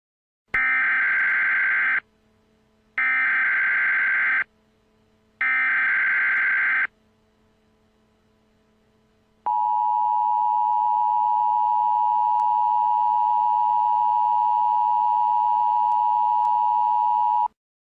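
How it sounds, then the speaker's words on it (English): Emergency Alert System activation tones sounding for a severe solar flare warning: three loud, evenly spaced data bursts, a short pause, then a long steady attention tone held alone to the end. "Activate the EAS immediately."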